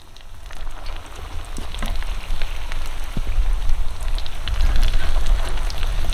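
A chicken chimichanga fries in a very hot, lightly smoking pan, giving a steady loud sizzle and crackle with scattered pops that builds slightly over the moment, and no voices.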